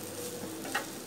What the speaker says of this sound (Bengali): শেষ মুহূর্তে এই পেঁয়াজটাকে হালকা একটু ভেজে নিচ্ছি